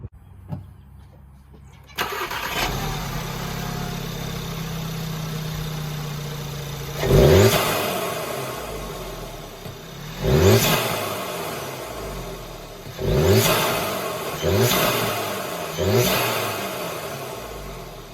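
A turbocharged Audi S3/Mk7 Golf R engine with a CTS turbo intake and inlet pipe starts up and idles, then revs sharply several times in quick succession, each rev rising and falling back, loud and close.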